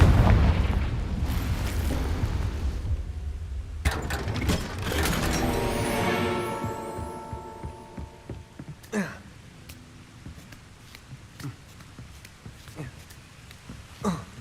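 A Confringo spell in Hogwarts Legacy explodes with a heavy, rumbling boom, followed by ringing, mechanical clanks and a few sharper secondary bangs that fade into a quieter tail.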